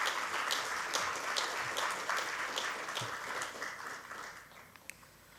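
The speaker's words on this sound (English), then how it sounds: "give him a big applause" Audience giving a big round of applause for a guest at a formal event: a steady wash of many hands clapping at moderate distance, sustained and fairly even, easing slightly near the end.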